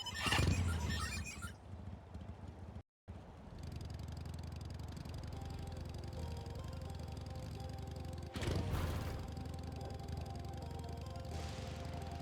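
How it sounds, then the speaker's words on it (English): Motorcycle riding in Final Fantasy XIV, a steady engine drone running alone for several seconds, with a brief cutout and a louder burst partway through. "Can't travel as fast on this motorcycle."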